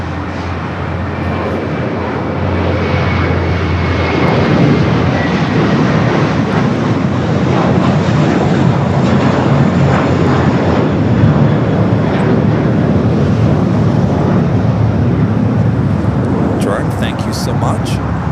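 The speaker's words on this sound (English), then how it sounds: "Flight 803 heading to Honolulu is now starting its taxi here." Hawaiian Airlines jet in the Moana special livery taxiing at LAX for Honolulu, a steady broad engine rumble and whine holding near and loud throughout, with talk over it.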